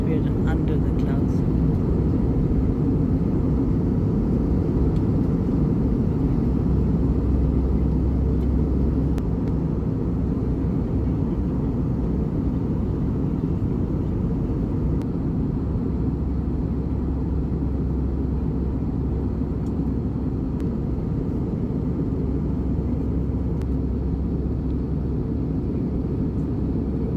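Airliner on descent toward Skardu, heard from inside the cabin as a steady, loud broadband engine and airflow rumble that holds for the whole stretch, with faint voices mixed in.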